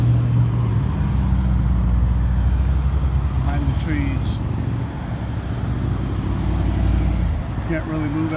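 Steady road traffic near French Valley Airport in Murrieta, a continuous low rumble of passing cars and trucks, fairly close and unbroken for the whole stretch.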